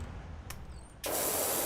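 A pressure washer in the game PowerWash Simulator cuts in abruptly after a quiet start, a loud, steady hissing spray running to the end.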